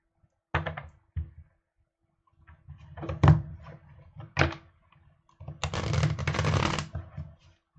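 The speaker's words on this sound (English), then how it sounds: "I will answer by drawing a tarot card" Tarot cards being shuffled and drawn, with several separate bursts of riffling and flicking, including a longer shuffle near the end, loud and close with quiet gaps between.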